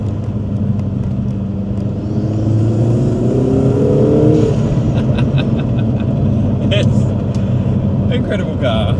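A 2025 Lotus Emira with a 2-litre four-cylinder engine revs and drones loudly, its pitch rising and falling in smooth sweeps under steady road rumble.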